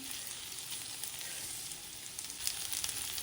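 Taro root (arbi) roasting with spices in a pan gives a steady, close sizzle and crackle, even and unbroken, with no voices over it.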